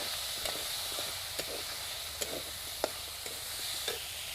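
Onion pieces frying in oil for a pangas fish curry give a soft, steady sizzle with scattered sharp clicks of stirring, fairly quiet and close, with no talking.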